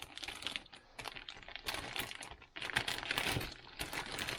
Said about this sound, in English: when I finish tearing up the effing plastic that doesn't want to tear